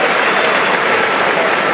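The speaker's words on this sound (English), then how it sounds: "The applause for the Barcelona centre-half." Stadium crowd applauding a Barcelona centre-half after a sliding challenge during a Barcelona vs Getafe football match, a steady, dense wash of clapping from a large crowd throughout.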